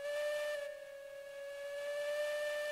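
A steam locomotive whistle in the Railroads Online railway game blows one steady, sustained tone for nearly three seconds, loud and alone with a faint hiss beneath.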